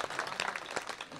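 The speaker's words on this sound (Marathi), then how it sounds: "एकदा सगळ्यासाठी टाळ्या वाजल्या." An audience at a kirtan claps together in a brief burst of applause, a quick patter of many hands that is fairly faint and heard on its own.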